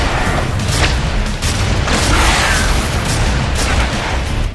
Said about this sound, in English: It should not take a Spaz-12 that many rounds to kill someone from across the room.